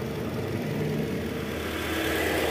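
The 2Z engine of a 2002 Toyota Camry runs steadily at idle during a final inspection after an oil-leak repair and balancer shaft replacement, a continuous close mechanical hum and whir with no speech.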